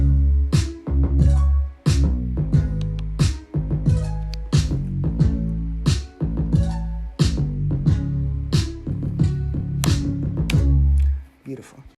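Beat for a song with punchy kick, sharp snare hits and a deep bass melody playing together in a steady looping groove, loud and close with no talking.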